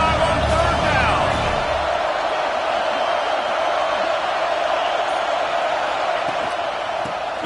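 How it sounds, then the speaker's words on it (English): An Ohio State Buckeyes football crowd roars on third down in a packed stadium, a steady, dense wall of cheering with a commentator talking over it. "The Buckeye crowd alive on third down."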